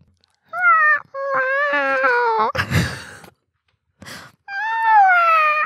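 A person imitates a cat's meow in a studio chat setting: several drawn-out, rising and falling vocal meows, loud and close, broken by a breathy noise burst and short pauses.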